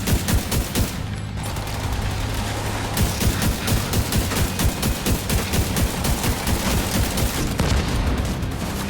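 Sustained rapid machine gun fire in The Division 2, a relentless rhythmic stream of loud close shots with booming undertones that carries on for about nine seconds, with no voices over it.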